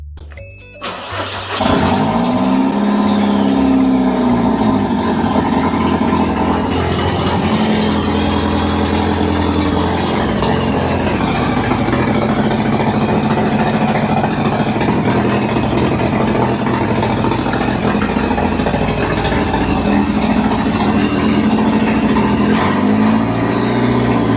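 An Audi TT Quattro engine cranks, fires up and keeps running with a loud, steady roar, close by, with no talking.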